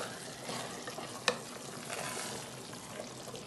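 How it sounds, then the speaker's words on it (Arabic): Onions and raisins fry in a pan for couscous tfaya, a steady broad sizzle with a sharp scrape from stirring and soft shuffling of the mixture, close and continuous with no talking. "ما تنساوش التفايه ديالنا اولا البصله والزبيب من التحراك"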